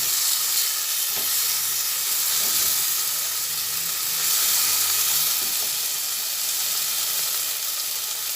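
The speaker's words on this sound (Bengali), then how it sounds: "তিন ভাগের এক ভাগ জিরের গুঁড়ো দিলাম ভালোভাবে আবার মিশিয়ে নিয়ে ভেজে নিচ্ছি" Masala for lentil-egg fritter curry fries with cumin powder in a continuous, even, close sizzle and hiss, with a few faint stirring knocks underneath.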